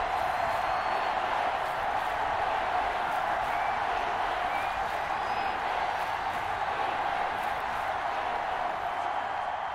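A packed NFL stadium crowd at a 2021 Buffalo Bills at Miami Dolphins game keeps up a steady, broad roar throughout, distant and even in level, with no single cheer standing out.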